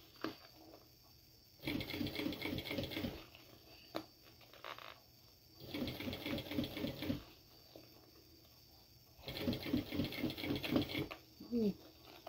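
A sewing machine stitches fabric for a small mini backpack in three rapid, close bursts separated by pauses, and a voice talks briefly near the end.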